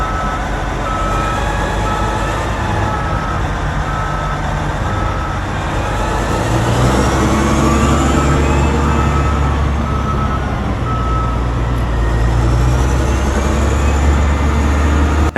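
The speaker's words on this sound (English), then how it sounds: "As the video continues, the loader keeps loading truck after truck, proving its real strength." A CAT 990 wheel loader loads coal onto lorries while a reversing alarm beeps steadily and a heavy diesel engine rumbles loudly throughout, rising and falling as the machine works nearby.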